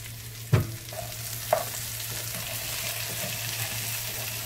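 Potatoes sizzle steadily in a hot pan, with a couple of sharp clunks from the pan near the start, as the heat is lowered from high to medium.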